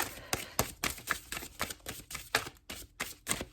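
A deck of cards being shuffled during a tarot-style card reading, giving rapid, crisp riffling flutters and slaps in quick bursts, close up and with no talking.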